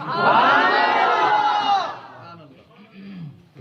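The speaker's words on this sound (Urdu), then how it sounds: "ابھی سبحان اللہ کی آوازیں تھیں ابھی نعرے لگ رہے تھے" A crowd at a Milad religious gathering shouts a slogan in unison, a loud sustained chorus of voices for about two seconds that cuts off, followed by a faint voice.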